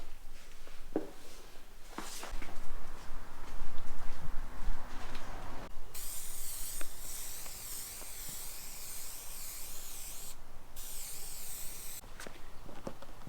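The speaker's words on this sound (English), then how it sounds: "coat the back of this thing with the spray adhesive and then stick these things on" Long hissing bursts from an aerosol can of spray adhesive coating insulation pieces for a ProMaster van headliner, close and steady with short pauses, over faint rustling and handling noises.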